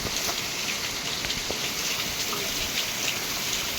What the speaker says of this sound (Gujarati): જોઈ લો વરસાદ એકદમ પડેલો છે જોરદાર